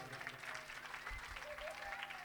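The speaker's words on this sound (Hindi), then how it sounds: "एक बार इन बच्चों के लिए ताली बजा दो भाई" Audience clapping for children at a Bhagavat Katha religious gathering, a steady, fairly faint wash of applause through the whole moment with a low hum beneath.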